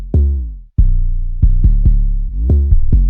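An 808 bass pattern in FL Studio thumps out deep, booming sustained notes with gliding pitch, including a slide note, in a loud, sparse rhythm with brief gaps and no voice.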